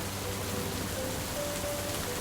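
Steady rain falls outdoors as a continuous, even hiss with soft patter, heard close and without talk.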